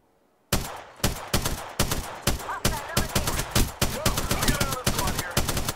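Rapid bursts of automatic gunfire from an Apex Legends firefight, loud and close, in tight volleys of shots with brief gaps, starting after a short quiet lead-in and continuing steadily.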